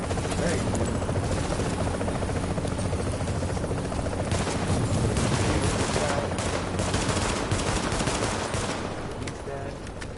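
A helicopter in the video game The Division whirs loudly and continuously beneath rapid bursts of machine-gun fire, with a voice talking over the action.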